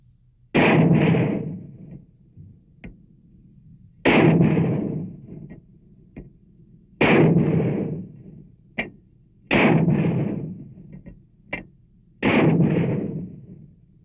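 Mortar and artillery fire in a military exercise, five heavy booming blasts spaced a few seconds apart, each with a rumbling tail, plus sharper distant cracks between them.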